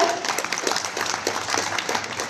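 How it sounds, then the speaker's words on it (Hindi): Audience applause at a ministry ceremony where the Jharkhand Chief Minister hands appointment letters to dental surgeons and medical officers: a dense, sustained patter of many hands clapping, steady and fairly close throughout. "तालियां होती रहे लगातार।"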